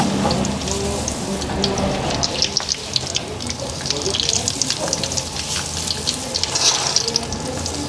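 Lumpia wrappers frying in hot oil give a steady, close sizzling hiss with small crackling pops throughout.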